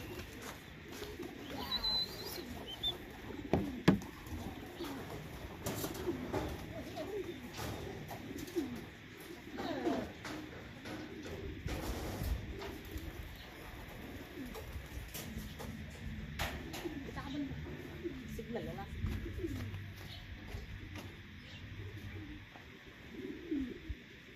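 Soft racing pigeon coos recur over a steady bed of outdoor background noise at a pigeon race, with faint scattered bird calls and occasional clicks throughout.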